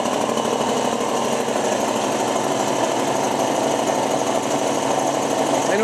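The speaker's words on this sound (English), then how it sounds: "Now, we're going to plug in this old 30-year-old belt-driven" A 30-year-old belt-driven air compressor runs continuously nearby with a loud, rapid mechanical hammering drone that stays steady throughout.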